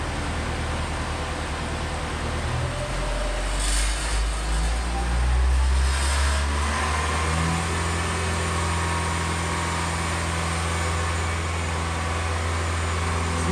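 Zamboni ice resurfacer engine running steadily after a rev-up to 2,500 RPM, a loud, continuous mechanical drone with a low hum that climbs and holds at a higher pitch, no talking.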